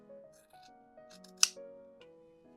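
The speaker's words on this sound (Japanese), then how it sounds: "切り揃える程度にカットしておくと出来 来上がりがすっきりします" Scissors trimming the edge of a clear plastic pouch, a single sharp snip rising out of quiet background music, brief and crisp at close range.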